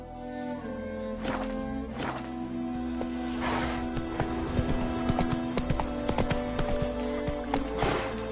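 Horse hooves in The Witcher 3 video game, a steady rhythmic clip-clop of galloping at close range, with occasional snorts and in-game background sound.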